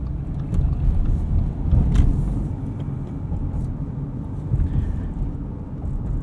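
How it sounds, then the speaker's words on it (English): A 2018 Subaru Crosstrek 2.0i Premium with a six-speed manual drones along at steady cruising speed, a low rumbling engine and road noise heard from inside the cabin, fairly constant with slight swells and no talking. "Engine sounds good though."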